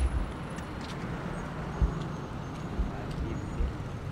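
Busy city street traffic rumbles nearby, a continuous low roar of trucks, buses and cars with occasional louder thumps and a faint high hiss of brakes.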